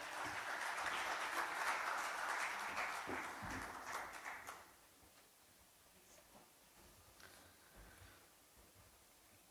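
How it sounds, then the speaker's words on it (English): An audience at a leadership event with the director of IIM Ahmedabad applauds steadily for about four seconds, then the clapping thins out into scattered claps and room noise. "May I have a round of applause?"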